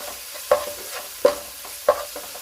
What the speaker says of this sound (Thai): เอาให้หมูสับสุกให้ดีก่อน